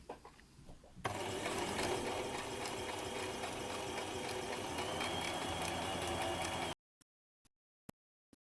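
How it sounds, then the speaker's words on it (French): Sewing machine running a zigzag stitch to join the sides of menstrual underwear, a steady, close mechanical whirr lasting several seconds after a quiet start, ending abruptly with a few sharp clicks. "vous pouvez également faire un point zigzag pour assembler vos côtés"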